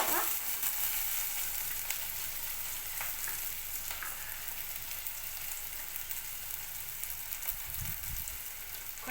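Onions fry in a hot pan for a spinach and egg curry, a steady close sizzle that hisses without pause, with a few faint clicks and a low rumble near the end.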